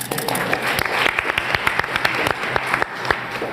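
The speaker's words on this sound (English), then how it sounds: "So tonight, yes, you can clap." Audience applauding at a live costume designers' talk event, dense steady clapping from a crowd with a few louder claps standing out, sustained through the whole stretch without speech.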